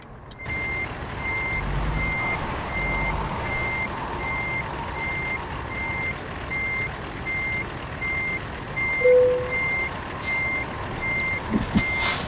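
A heavy truck in American Truck Simulator backs into a tight loading dock, its reversing beeper pulsing steadily over a constant low engine drone, with a brief hiss near the end.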